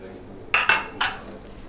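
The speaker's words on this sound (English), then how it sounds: "Now we're going to flip them out of their mold." Baked donuts knocked out of their mold, three quick hard clattering taps of the pan close by, the first two in rapid succession and the third after a short pause.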